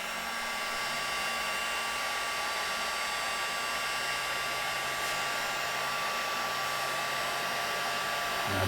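Heat gun blowing steadily close by as it warms a paintless dent repair glue tab and car panel, a constant even whooshing roar with no pauses and no voices.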